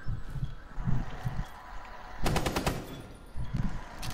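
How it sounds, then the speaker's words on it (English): A short rapid burst of gunfire in a video game, about half a second of quick repeated shots standing out over muffled thuds and background game noise, with no speech. "Keep shooting."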